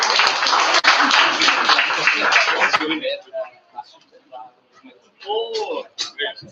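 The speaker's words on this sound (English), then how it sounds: "Give yourself clap loudly." Audience clapping loudly at the close of the inaugural session of a young scholars' conference, a dense burst of applause for about three seconds that stops abruptly, followed by scattered voices talking.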